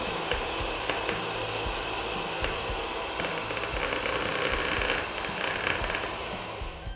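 An electric mixer beats chocolate mousse with cocoa powder added, a steady loud whirring drone with faint scraping clicks running continuously throughout without pause, and no voices present.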